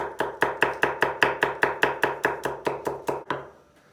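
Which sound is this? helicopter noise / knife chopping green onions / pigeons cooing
knife chopping green onions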